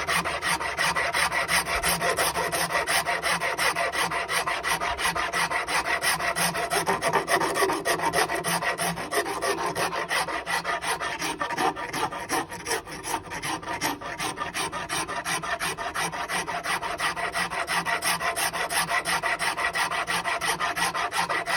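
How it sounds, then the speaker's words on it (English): A rasp files steadily along a fiddleback-grained wood handle for a Tasmanian pattern axe held in a vice, a continuous close scraping rasp with rapid even strokes and no speech. "that's a pretty good rasp, that one"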